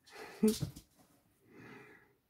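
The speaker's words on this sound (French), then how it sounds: "Mon petit chien qui est là, vous l'entendez là?" A small dog nearby breathing with a wheezy snort, one short sharp burst followed by a softer raspy exhale; close and quiet, no speech over it.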